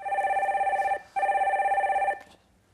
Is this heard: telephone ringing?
yes